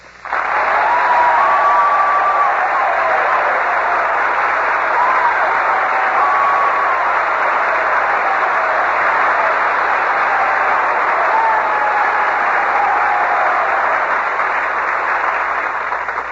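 A 1945 radio-show studio audience applauds Commander Robert Montgomery with long, sustained, even clapping, loud and unbroken from start to finish.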